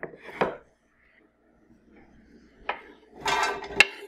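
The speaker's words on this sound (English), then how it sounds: "what we're gonna do is throw this into the pot with a little bit of butter and salt and let it sweat" Diced onion goes into a soup pot with butter and salt for broccoli cheddar soup. A few sparse clattering knocks and a short scraping burst come close by, separated by near-silent gaps.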